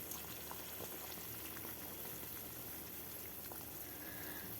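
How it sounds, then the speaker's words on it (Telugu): Water at a rolling boil in a pot readied for biryani rice, a steady dense bubbling hiss that holds evenly throughout with no voices. "water మరిగిపోయింది rice పోసేసుకుందాం"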